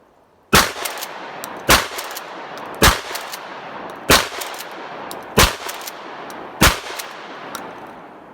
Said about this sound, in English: I'm running buckshot out of this gun, keep in mind.